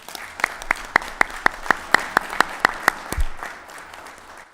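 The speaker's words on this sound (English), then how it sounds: "Can we give them all a round of applause?" Scattered clapping at a city board of mayor and aldermen meeting greets a troop of scouts, a handful of sharp, evenly spaced claps standing out from a light patter before fading into a quiet room.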